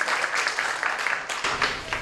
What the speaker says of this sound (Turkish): tekrardan bir büyük alkış alalım ilk sunumumuzlarla